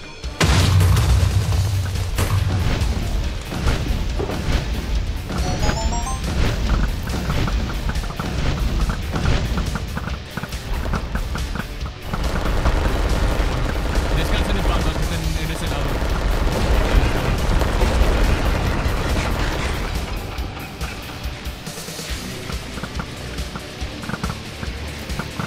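Gunfire and explosions from a video game keep booming and crackling loudly and continuously, with dense shot bursts and heavy low blasts, easing somewhat toward the end.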